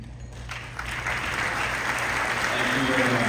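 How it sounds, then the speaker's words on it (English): Banquet guests at an award dinner applaud, the clapping swelling in after a quiet start into a full, even roar that holds steady and close until the end. "Would you please stand and take a round of applause?"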